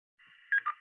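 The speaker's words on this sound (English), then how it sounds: "a tail with a beep coming back, a courtesy tone" A short electronic repeater courtesy tone beep follows a faint carrier hiss: two quick tones, the first higher, the second lower, clean and close.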